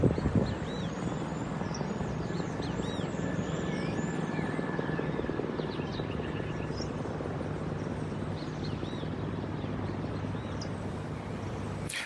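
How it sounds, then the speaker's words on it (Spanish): A presidential helicopter heard from a distance, its steady rotor drone continuous and fairly faint, with birds chirping lightly over it and no talk. "Esta es otra toma lejana del helicóptero."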